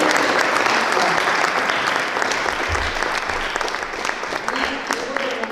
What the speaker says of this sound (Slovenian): tako da za Anjo en aplavz